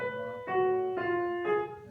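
A short piano passage of four sustained chords, the attacks slightly uneven in timing and weight, played alone and fairly softly.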